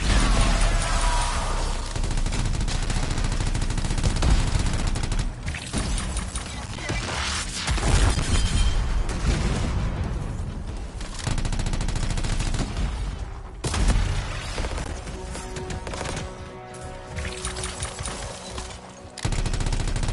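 A large gun fires in the sci-fi game Anthem: loud, sustained bursts of rapid automatic fire with short pauses between volleys, close and dominant over the mix.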